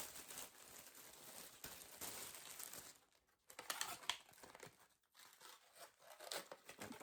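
Plastic packaging from an online haul crinkles and rustles in close, irregular bursts as someone struggles to open it, with brief pauses between handlings.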